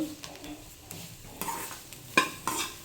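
Sweet corn kernels roasting in a pan for masala corn, stirred with a spoon: scraping stirs and light clinks of utensil on metal over a faint sizzle, with a few sharper knocks near the end.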